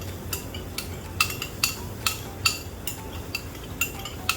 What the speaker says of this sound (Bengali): আমি টক দইটাকে একটু ফেটিয়ে দিচ্ছি।